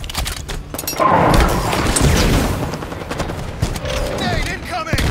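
Grenade blasts and gunfire in Halo 5 multiplayer ring out as a dense, continuous barrage of booms and shots, with game announcer callouts heard over the combat.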